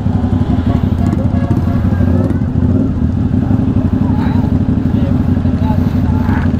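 Several motorcycles, among them a Honda Click 125 scooter, a Yamaha and a Kymco, rumble steadily on a night ride in Tagaytay, a dense continuous engine drone close by, with voices over it.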